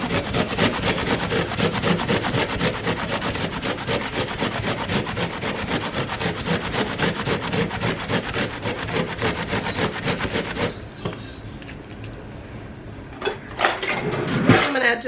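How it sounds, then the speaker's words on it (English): Onion is rubbed against a kitchen grater in quick, steady strokes that run continuously and close up for about ten seconds, then stop, leaving a quieter stretch with a few brief knocks and clatters. "Next, I'm going to grate a little bit of onion in here."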